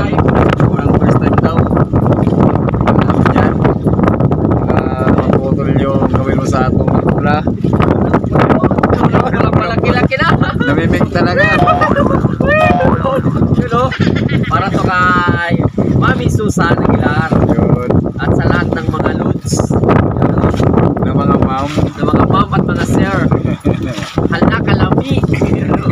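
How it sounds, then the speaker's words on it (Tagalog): Strong wind buffets the microphone on a small boat at sea off Masbate, a dense roar that never lets up. Voices talk over it almost the whole time. "Dahil lumalakas na naman yung hangin at alon mga lutso."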